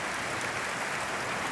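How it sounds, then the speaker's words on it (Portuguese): Heavy rain falls steadily as a dense, even hiss of water pouring everywhere, continuous and close without pause. "É muita chuva, pessoal."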